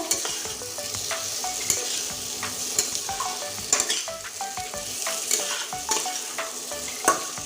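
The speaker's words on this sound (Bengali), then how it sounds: "এই আলুটা এবার দিয়ে দিচ্ছি এবার সুন্দর করে আর একটু কষতে থাকবো" Fried potatoes being stirred into a cooked-down spice masala for Bengali egg curry, with a steady sizzle and frequent scraping, clattering spoon strokes against the pan, close and continuous with no talking.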